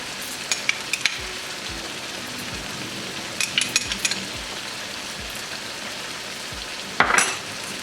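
Ginger paste, garlic paste and green chilies fry in a pan with a constant soft sizzle, while a spoon scrapes and taps at irregular intervals and one louder clatter comes near the end.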